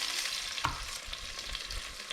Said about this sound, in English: Hard chop straight into the oil and beef fat.